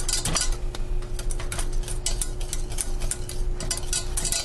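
Whisk scraping and clinking through thick, condensed cream of broccoli soup in a pot, a steady series of close metallic ticks and scrapes over a low hum, with no talking.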